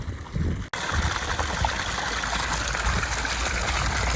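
Water gushes hard from field drainage pipes after power harrowing and levelling, a steady loud rushing flow heard up close and continuing without a break.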